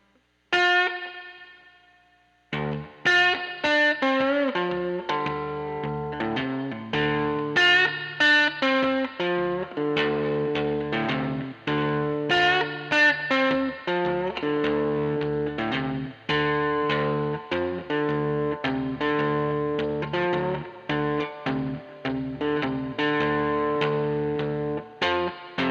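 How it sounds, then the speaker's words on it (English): A slowed-down electric guitar lick rings out with heavy reverb and distortion. Clear plucked notes follow one another at a relaxed pace after a short sustained note, with long, washy tails and no talking. "we slowed this lick down, we turned up our reverb"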